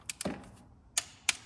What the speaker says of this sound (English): already preset my torque wrench